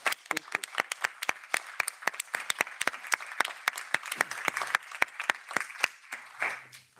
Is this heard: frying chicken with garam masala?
no